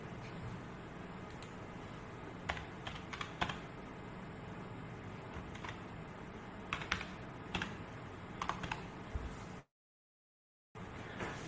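Keys clatter on a computer keyboard in steady, irregular bursts of quiet close clicks, with occasional louder keystrokes and a brief drop to silence near the end.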